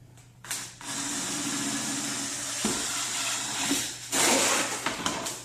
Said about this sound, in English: We're going to drill 2 holes.